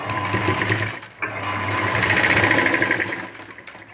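A sewing machine runs steadily, stitching pleats into a blouse sleeve, with a brief pause near the one-second mark before the close, loud motor hum resumes.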